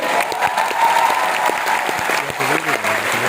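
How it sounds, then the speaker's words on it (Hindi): An audience breaks into loud sustained applause, many hands clapping together in a steady roar that fills the whole moment, with a voice faintly over it. "कैसी वाली ताली हो सकती है खुद के लिए?"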